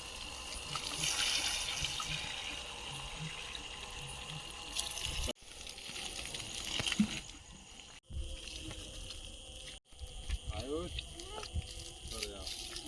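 Water from a hose or can poured steadily onto the roots of potted plants outdoors, a continuous splashing gush with brief interruptions, while people talk nearby.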